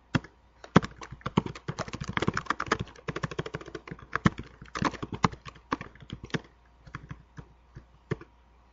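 Rapid, uneven clicking and tapping of a computer keyboard during Oracle database backup work in SQL*Plus, dense bursts of keystrokes with brief pauses and occasional heavier key hits, close and clear with no talking.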